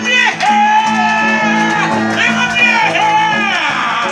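Concert audience at a show cheering and shouting loudly, with whoops and yells rising over sustained tonal music, a close, full crowd roar.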